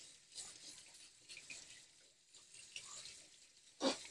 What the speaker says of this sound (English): I will get my brush, my vegetable brush, and I'll just rinse these off really as good as I can